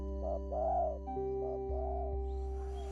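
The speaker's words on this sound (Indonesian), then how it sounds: "Itulah suara burung tekukur." A spotted dove coos softly in a repeated pair of mellow, rounded calls, close and clear over a steady low hum.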